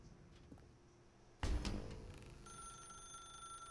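A telephone rings in The Stanley Parable video game: a dull thump comes first, then a steady electronic bell tone starts and keeps ringing at a low level.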